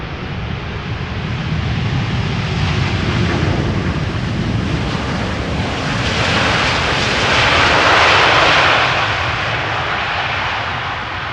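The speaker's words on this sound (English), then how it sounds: "next up is A7879 Dreamliner arriving from Cartagena." Boeing 787 Dreamliner jet arriving at Amsterdam Schiphol in crosswind, a loud broad engine roar with wind buffeting that swells toward the middle as the aircraft passes close, then eases slightly.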